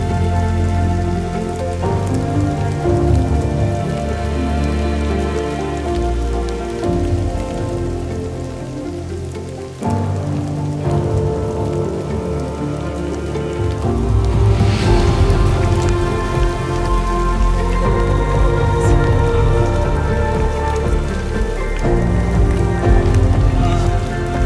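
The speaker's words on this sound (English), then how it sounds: "and it is raining." Steady, heavy rain pours at the Machame route gate on Mount Kilimanjaro, a dense continuous hiss of drops drumming on surfaces close by, with no break for the whole stretch.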